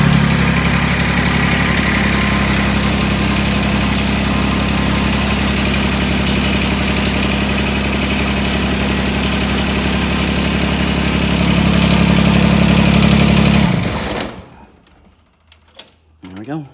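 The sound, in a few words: John Deere tractor engine idling after cold start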